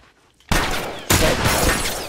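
Two loud gunshots ring out in The Last of Us, the first sharp crack followed about half a second later by a second blast, each trailing off in a ringing tail.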